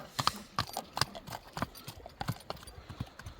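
A saddled horse walks at an easy pace, its hooves clip-clopping in a fairly even rhythm close by, with light outdoor background noise and no talk.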